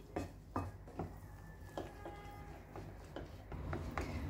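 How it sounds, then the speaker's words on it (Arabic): Cake batter made with water being stirred after a second glass of flour is added, the spoon or whisk knocking the bowl in soft, fairly regular taps, close and quiet, with no talking. "دابا نخلط هذا الكاس الثاني ديال الدقيق اللي زدت حتى يتخلط مزيان"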